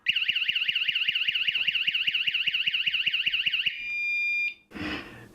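A cheap car alarm goes off with a loud, rapidly warbling siren for almost four seconds, then cuts to a brief steady tone followed by a short burst of noise.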